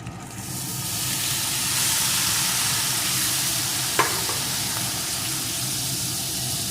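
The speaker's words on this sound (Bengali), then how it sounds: "পেঁয়াজটা একটু ভেজে নিয়েছি এখন সিদ্ধ করে রাখা সবজিটা দিয়ে দেবো" Boiled mixed vegetables go into a pan of fried onions and hiss into a strong, continuous sizzle, with one sharp clink of a utensil partway through.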